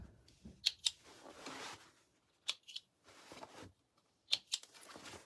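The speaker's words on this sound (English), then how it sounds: "All right, trim those threads." Scissors snipping loose threads on a sewn canvas tote bag, a few quick paired metallic snips separated by pauses and soft handling rustle.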